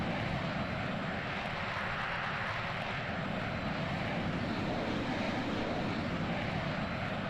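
A Boeing B-52 Stratofortress takes off in Microsoft Flight Simulator 2020 at an Air Force base in North Dakota, a steady, loud roar of jet engines that holds without a break and with no talking over it.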